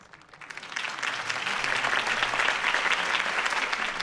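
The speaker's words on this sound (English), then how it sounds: "could have heard that applause" A crowd in the Batman: The Telltale Series video game breaks into applause after a campaign speech. The clapping swells within the first second and then holds as a dense, sustained ovation.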